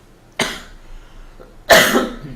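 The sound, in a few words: coughing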